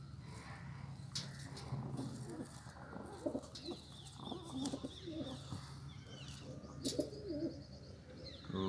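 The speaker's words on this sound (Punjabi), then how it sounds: "ਲਾਲ ਚੀਨੇ ਕਬੂਤਰ ਹੈ ਜੀ" Red Chine pigeons cooing at close range, with soft repeated low coos and occasional light chirps over a faint background hum, and no voices.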